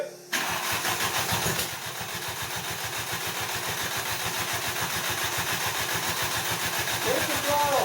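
Audi ABA 16v turbo engine cranks briefly and catches, then settles into a loud, steady rumbling idle nearby, with a lumpy pulsing beat and some voices in the background.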